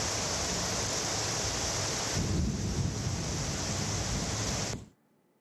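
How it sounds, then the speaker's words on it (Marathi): Steady heavy roar of downpour, gusting wind and thunder, dense and unbroken, with a low rumbling swell in the middle before it cuts off abruptly near the end. "सोसाट्याचा वारा आणि विजांच्या कडकडाटासह या ठिकाणी पाऊस झालाय"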